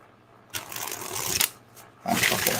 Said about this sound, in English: Okay, I think the cards are saying stop shuffling.